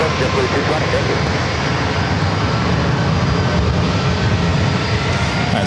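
An airplane takes off from runway 27 at San Diego airport, a loud, steady broadband engine roar filling the whole stretch without letup.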